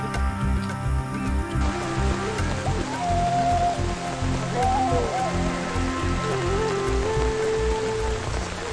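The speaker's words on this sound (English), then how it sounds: "the monsoon rains are already lashing the park" Monsoon rain lashing a rhino park's grasslands, a steady dense patter of drops on surfaces with a constant wash of water, close and continuous throughout.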